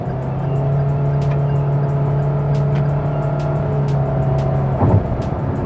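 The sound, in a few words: Proton Iriz car accelerating in sport mode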